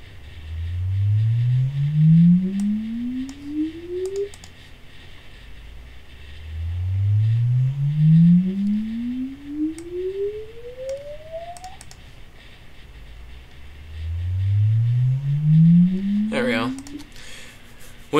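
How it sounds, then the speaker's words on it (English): Three rising sine-tone test sweeps run through iZotope Ozone 5, each gliding smoothly upward in pitch over several seconds, separated by short gaps, with a brief click burst near the end. "we just need to make sure that Izotope does not clip when we run our sine waves through"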